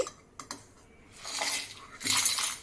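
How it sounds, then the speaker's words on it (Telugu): Roasted lentils for gongura pulihora go into a mixer jar: a few sharp metallic clinks come first, then a rattling, grainy pour that builds and fills the last second, close and fairly quiet. "ముందుగా మనం వేయించుకున్న పప్పులన్నీ ఈ మిక్సీ జార్లోకి వేసుకోండి"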